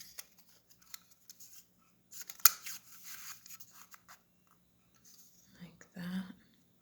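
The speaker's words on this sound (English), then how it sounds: "going to use my Pick-a-Banner punch and banner cut one end" A Pick-a-Banner craft punch snips through the end of a paper banner for a bridge fold card, a short sharp crunch amid quiet handling rustles and soft whispered talk.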